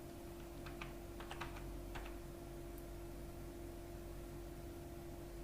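A few quick bursts of keystrokes on a computer keyboard while entering a department search, faint clicks over a steady electrical hum, then quiet.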